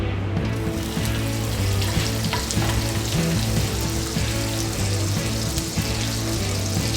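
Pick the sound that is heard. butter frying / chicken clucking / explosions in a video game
butter frying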